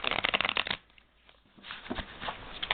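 Thin, slightly glossy tarot cards are riffled in a quick, crisp burst of flutters, then go quiet before a softer second round of shuffling, close and fairly quiet.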